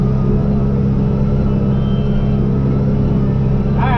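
A backhoe tractor running in 4th gear while speed plowing, its engine giving a loud, steady low rumble that holds constant throughout with no pauses.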